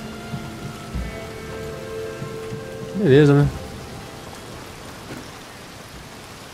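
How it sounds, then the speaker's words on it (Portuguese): Steady rain patters throughout in Red Dead Redemption 2, with a brief spoken phrase and a short burst of tonal sound midway. "de novo tá chovendo!"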